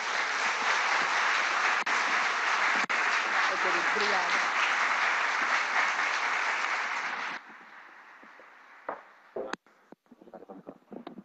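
A forum crowd applauds the culture ministry secretary, with sustained dense clapping that stops abruptly partway through, followed by a few stray sounds and a voice beginning to speak.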